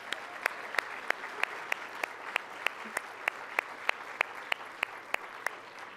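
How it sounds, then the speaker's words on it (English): Audience at an agri-business banquet claps in a steady, even rhythm, sharp regular beats about three per second over a soft crowd murmur, lasting the full stretch. "I give her another round of applause,"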